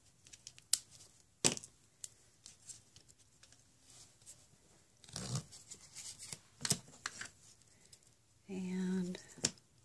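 Scissors cutting card stock for a barn door slider card, a handful of sharp snips and paper rustles scattered across the clip, close and fairly quiet, with a voice speaking in between.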